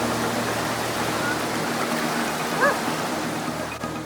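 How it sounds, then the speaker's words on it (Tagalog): A strong river current rushes in a steady, close, broadband wash of flowing water, with no pauses, as teachers wade across a river too deep for motorbikes. "Sa lakas ng agos ng tubig,"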